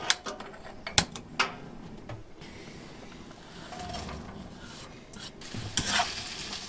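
Onion sautés in a pan with a quiet, steady sizzle, broken by a few sharp clinks and scrapes of stirring near the start and again near the end.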